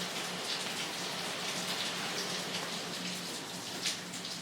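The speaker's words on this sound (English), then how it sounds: "Can you hear the rain?" Steady rain falls outdoors, a dense even hiss of drops pattering on surfaces that holds at the same level throughout with no other sounds.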